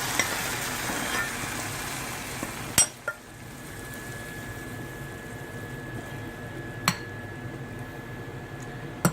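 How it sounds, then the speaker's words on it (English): Onions go into a hot tempering pan for Hyderabadi mitti dal and sizzle steadily and close, with a sharp metallic clink partway through, a brief ringing tone and another clink later, and no talk. "now we're gonna take the tempering and add the onions"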